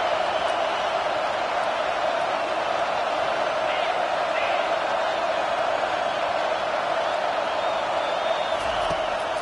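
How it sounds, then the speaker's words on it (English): A home stadium crowd roaring during a third down in a football game, a dense, sustained wall of cheering and noise at a constant loud level throughout. "Here comes this home crowd as the defense tries to get off the field on third down."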